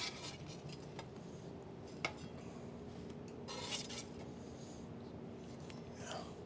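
Grilled cheese sandwich being flipped in a pan in a cooking class, with a light metal utensil scrape and a sharp clink on the pan amid quiet kitchen handling.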